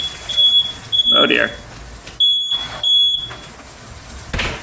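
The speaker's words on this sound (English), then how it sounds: "oh God, smoke alarm" A smoke alarm sounds a shrill, steady beeping tone in a kitchen while bacon is being fried, the high pitched tone cutting in and out in bursts over a couple of seconds as a person speaks briefly.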